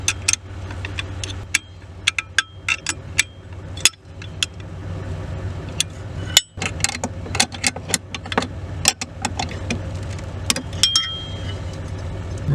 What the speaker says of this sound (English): Now from the top, you're going to tighten those up.